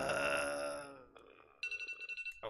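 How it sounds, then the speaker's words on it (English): A mobile phone beeps in a quick, even run of short tones after a fading electronic chime. "Oh, my phone is beeping."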